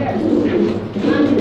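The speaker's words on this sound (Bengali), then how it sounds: "এটা হচ্ছে স্প্যানিশ পটার, যেটাকে গর্গিয়ে বলে" Spanish pouter pigeons coo in a low, steady murmur, close and continuous for a moment, with other birds and faint voices blended in the background.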